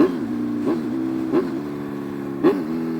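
A 2014 Kawasaki Z1000 inline-four motorcycle engine hums steadily at a close, loud, mid-pitched tone, with three quick blips of throttle or gear change spaced about a second apart; no voices.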